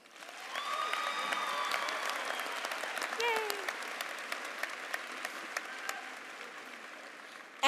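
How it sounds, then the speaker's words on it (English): A high school commencement audience breaks into sustained applause, a dense wash of clapping with a few whistles and cheers rising over it, loud and steady before tapering slightly. "please join me in giving them a round of applause"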